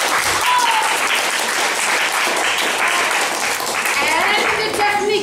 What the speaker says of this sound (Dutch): Applaus voor het publiek dat ze gekomen zijn.